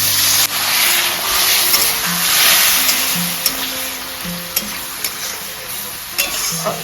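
Onion masala frying with tomato, Kashmiri chili, salt, turmeric, a pinch of sugar and a splash of water, hissing loudly throughout, with intermittent clicks and scrapes of a spoon stirring close by.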